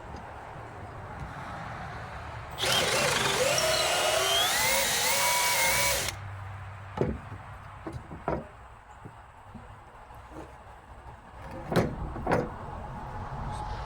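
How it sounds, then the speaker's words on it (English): An electric drill bores holes through wooden stakes used as area dividers, a loud steady whine lasting about three and a half seconds, followed by scattered knocks and clunks of handling the stakes. "drill them out"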